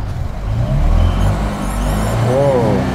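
A Lada police car engine pulls away in first gear, a steady low rumble that swells in volume, with voices talking over the engine throughout.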